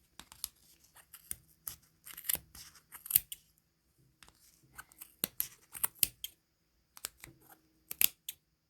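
Sharp scissors snip through yarn while a pom pom is trimmed, a string of crisp, close cuts in uneven bursts with short pauses between them.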